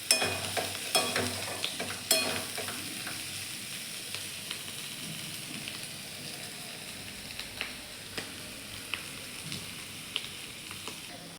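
Spicy potato sabzi (batata bhaji) being stirred in a pan, a steady soft sizzle of frying under repeated scraping strokes of the spoon, louder at first and then settling into a quieter, continuous frying hiss with no talking.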